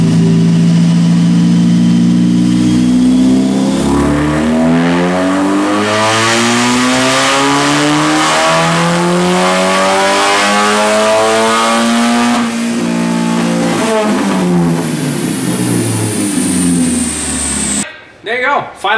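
Supercharged Chevrolet Cobalt SS with a 180,000-mile engine, running on E85, revs hard through a dyno pull, its rising engine note climbing steadily and loud for most of the clip before cutting off near the end; voices are faintly present underneath.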